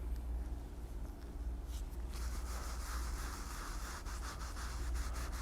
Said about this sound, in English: Rub it in well.